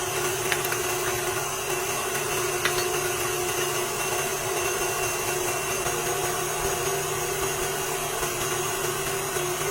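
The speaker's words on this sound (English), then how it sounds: "we're gonna throw in our room temperature, our 6 room temperature eggs, and we're going to start to whisk them" Six room-temperature eggs being whisked with vanilla for a tres leches cake, heard as a continuous loud whirring drone with faint clinks, steady for the whole stretch and with no voices.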